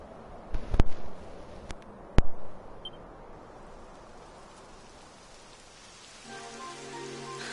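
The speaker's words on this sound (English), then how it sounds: "It would have to go and start raining, wouldn't it?" Steady rain falls in the video game Dragon Quest XI, a constant hiss of rain on the ground broken by a couple of sharp clicks early on.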